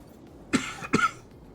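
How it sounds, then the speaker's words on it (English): Two short coughs from one person, close and fairly loud, a brief pause between them, with near silence around them. "Sorry for coughing."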